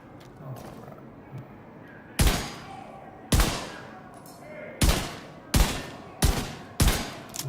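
Pistol gunfire in a video game: six loud, distinct single shots spaced about a second apart, each with a short decaying tail, above a quiet ambient bed with faint low murmurs.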